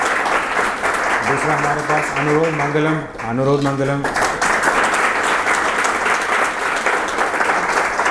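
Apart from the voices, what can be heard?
class applauding successful students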